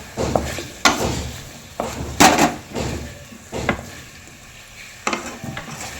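Chopped tomato going into a hot frying pan while cooking drumstick (sajna data), with a spatula stirring and scraping in several distinct strokes over a steady sizzle, close and fairly loud.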